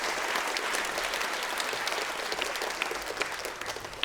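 An audience applauds steadily, the dense clapping holding at an even level from start to finish, with no voices over it.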